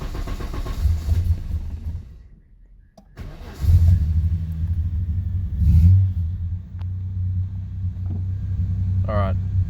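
Nissan RB engine in a car idling after start-up, a loud steady low rumble that dips briefly near the start then carries on with slight revs, with a faint voice over it near the end.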